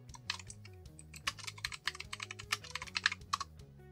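Fingers type on a computer keyboard in quick, irregular bursts of close, crisp key clicks while entering a search term, with a low background hum underneath.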